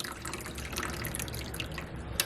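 Kangen water runs into a container, a soft, steady trickle with small splashes and drips, quiet and close, with no one speaking.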